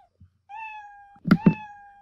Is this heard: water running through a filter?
no